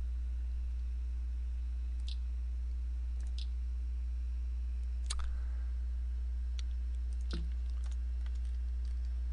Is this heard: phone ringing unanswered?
no